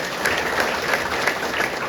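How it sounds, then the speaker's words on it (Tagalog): An audience claps together through a seminar for new distributors, with steady, dense applause that holds at an even level from start to finish. "O palakpak mo na kayo lahat."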